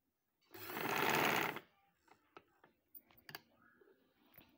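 A sewing machine runs a steady burst of shirt-fabric stitching, loud and close, for about a second, then stops, leaving scattered light clicks and handling noises.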